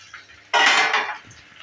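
A metal lid comes off a cooking pan with one bright clattering scrape, followed by a short burst of frying hiss from the onion-flower and potato fry below before it settles down.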